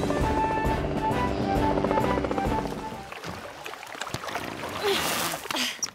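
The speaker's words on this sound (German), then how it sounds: "Tom, wir brauchen sofort den Hubschrauber" A cartoon helicopter called in for a Fireman Sam sea rescue, its rotor whir emerging under music and voices, then continuing as a louder, rougher mechanical noise with splashy bursts.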